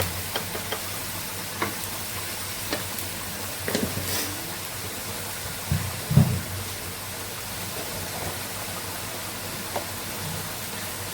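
Garlic frying with onion in a pan, a continuous close sizzle with a few soft stirring knocks scattered through it, no voices over it.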